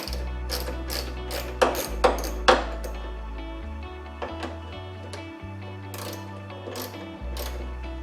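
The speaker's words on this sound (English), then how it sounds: "So I just removed 3 of these 7mm bolts." A ratchet wrench removes 7mm bolts from the rear side window frame of a 1999-2006 Chevy Silverado, making fast clicking ratchet runs with low mechanical whirring and a few sharp metallic knocks, close up and with no talk.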